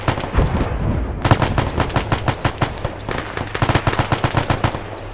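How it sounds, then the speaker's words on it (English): Rapid bursts of heavy gunfire rattle through a tank battle in Arma 3, loud, dense volleys of sharp repeated shots that pause briefly, then resume in quick rhythmic strings. "feel like there's a bit of a tank battle going on here"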